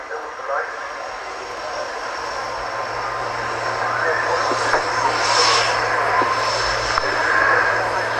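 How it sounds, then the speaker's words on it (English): SEPECAT Jaguar jet aircraft in desert pink paint taxiing along the runway at an air show, a steady broadband engine whine and rumble that grows slightly louder, with crowd voices faintly underneath. "So the Jaguars taxiing back down the runway to return to their parking spaces."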